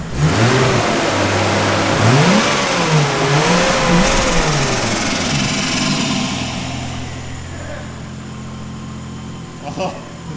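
A turbocharged car engine revs hard and loud nearby through its exhaust, pitch rising and falling, then settles into a fading turbo whine and rumble as the revs wind down.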